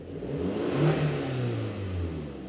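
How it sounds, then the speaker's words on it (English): A 2006 Audi A4 2.0L turbo AWD engine running steadily after an exhaust repair, a low, even mid-pitched hum with a slight swell in the middle, no voices present. "that's mostly the engine"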